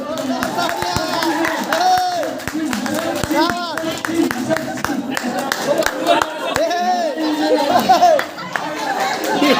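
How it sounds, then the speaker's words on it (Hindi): Audience applause at a Bharat Vikas Parishad community program in Sampla: close, lively clapping with bursts of excited chatter, children's voices and some laughter mixed in, fairly loud throughout. "तालियां बजाते हुए जोरदार तालियां।"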